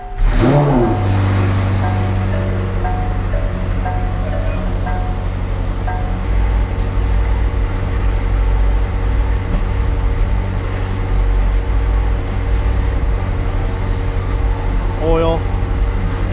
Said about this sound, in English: you're gonna have to start the car.